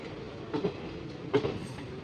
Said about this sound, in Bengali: ওদিক থেকে হাওড়া চেন্নাই মেল লাইন দিয়ে বেরিয়ে গেল এই ট্রেনটা